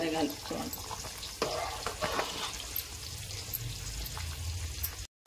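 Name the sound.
mutton cooking and being stirred in a pan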